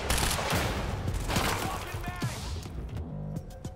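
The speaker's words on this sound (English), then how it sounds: "Fireworks going off in the background." In the Quantum Break video game, fireworks go off as rapid crackling bursts and thumps, dense at first and then thinning out, with faint voices present.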